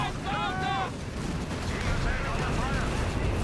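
Grenade blasts and rifle fire in Company of Heroes 3 as German troops of the 90th Panzer Grenadier Division assault American lines, a dense steady battle din with rising whistles early on and faint voices mixed in.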